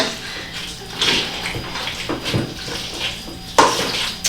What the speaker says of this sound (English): now we're going to mash the potatoes with all the ingredients that we just added